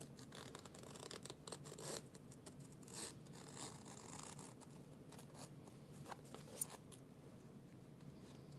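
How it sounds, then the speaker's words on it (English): Sharp scissors glide through fabric while sewing a Rosie sling, giving a soft continuous scraping and snipping texture, faint and close with small irregular clicks. "if you've got real good, nice, sharp scissors, you can just kind of like let it glide"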